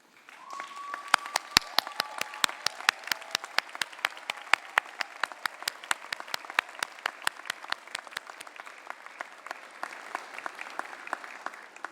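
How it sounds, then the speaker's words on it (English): A graduation ceremony audience claps in a sparse, distinct rhythm, individual claps sounding clearly and evenly spaced throughout, fairly quiet and reverberant in a large hall. "give a round of applause to respect all those people who have helped us to get here today"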